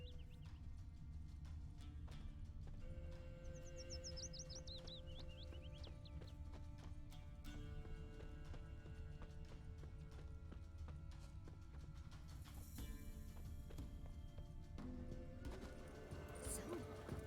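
Horse hooves clip-clop in The Witcher III amid a busy game scene, a steady rhythm under ambient noise, whinnies and other effects, with voices speaking over it.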